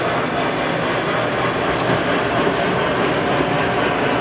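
A model train of the General, an iconic historical locomotive, running steadily with a continuous broadband rolling rumble and faint clicking that stays even and close throughout, with no talk over it.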